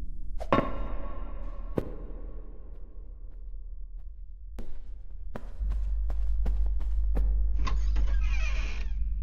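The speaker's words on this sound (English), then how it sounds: "That sounded like static, and I did not enjoy that." In the horror video game Rooms, a harsh burst of static erupts near the end, following a series of sharp clicks and thumps over a low rumble.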